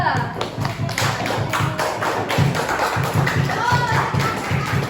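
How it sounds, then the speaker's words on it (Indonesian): A group gives rhythmic clapping for a team of students at a classroom lesson, a steady beat of claps close by with voices calling over it. "beri aplaus untuk kelompok 2"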